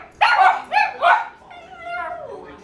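Dogs barking from a TV screen indoors: three sharp, loud barks in quick succession followed by a longer, softer whining yelp.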